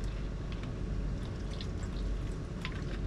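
Water pouring into a pot of whole potatoes, a continuous splashing trickle with small drips, close and alone.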